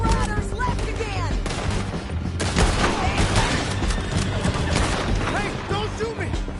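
Rapid gunfire in a video game, dense overlapping bursts of shots with crashes, loud and continuous, with shouting voices mixed in throughout.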